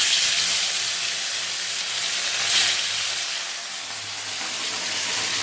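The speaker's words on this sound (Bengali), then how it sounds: "এখন মাছগুলো ভাজবো।" Bhola fish, rubbed with salt and turmeric, sizzle in hot oil in a wok, a steady loud crackling hiss up close that swells and eases slightly.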